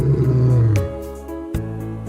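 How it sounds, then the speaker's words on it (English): A lion roars once, a deep loud rumbling call that falls away, then a shorter growling burst follows, close and unaccompanied by speech. "Lion."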